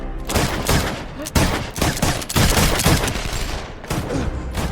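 Gunfire in the action film Mission: Impossible - Fallout, loud, close bursts of shots in rapid volleys with brief gaps between them.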